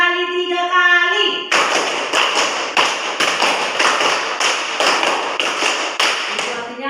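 Classroom counting game in Indonesia: hands clap in quick, evenly spaced sharp bursts, sets of five repeated, loud and close after a chanted voice, with voices faintly underneath.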